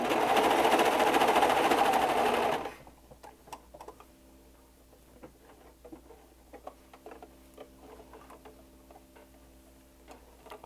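A sewing machine runs a burst of stitching on a toddler skirt made from a T-shirt, loud and close for about two and a half seconds, then stops, leaving faint scattered clicks and handling ticks.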